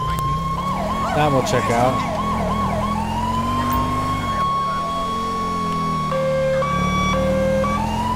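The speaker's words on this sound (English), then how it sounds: "I don't know if this siren's from the 90s or not, but this is what I found" Police siren on a 1996 Ford Crown Victoria patrol car in GTA V, a loud wailing and yelping tone that shifts pattern, with engine noise and someone talking briefly over it.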